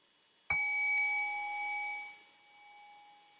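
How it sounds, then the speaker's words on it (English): A single meditation bell is struck once at the start of a dharma talk session, giving a clear metallic ding followed by a long, pure ringing tone that slowly fades. "So I'll just ring the bell here"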